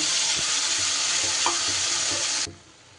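A paste of tomato, ginger and green chili hits hot oil with whole garam masala spices, bursting into a loud close sizzle with stirring scrapes for about two and a half seconds before quieting abruptly.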